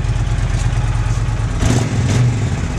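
A Honda VTX 1300 motorcycle engine runs loud and close in a steady low throb, then gives two quick throttle blips that swell and fall back to idle, with no talking.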